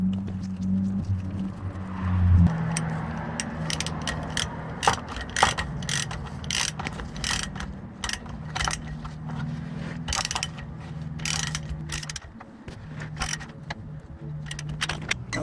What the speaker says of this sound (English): Now we're going to torque it to spec.